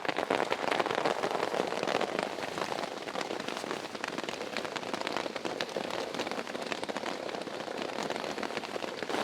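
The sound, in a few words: heavy rain falling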